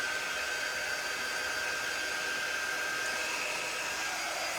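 A hair dryer blowing steadily on a heat transfer applied to a canvas, a constant close whooshing roar with a thin whine that holds unchanged throughout.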